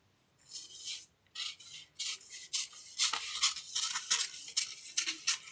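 Blouse fabric being cut along the lower side of the back panel for a cut-work blouse: a close series of short rasping snips in uneven bursts, with no talking.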